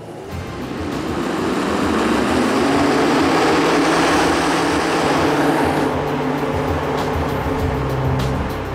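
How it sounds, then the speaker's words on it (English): An inflatable air dancer advertising figure driven by an air blower, heard as a loud, continuous rushing roar of blown air with fabric flapping and rippling, steady and close for the whole stretch. "This advertising gadget is called an air dancer."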